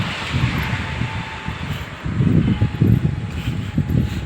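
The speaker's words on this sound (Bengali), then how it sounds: "প্রচুর বাতাস" Strong wind blowing by a river rumbles and buffets the microphone in uneven gusts, growing louder in the second half, with no voices heard.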